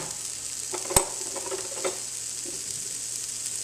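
Onions frying in butter over high heat in a pan, a steady close sizzle with a couple of brief knocks or stirs, no talking.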